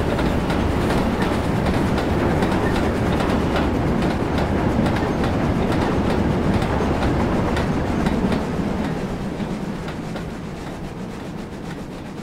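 Model train running on a loop layout in Train Simulator 2016, a steady rolling rumble with rhythmic clickety-clack of wheels over rail joints, loud and continuous before easing slightly near the end.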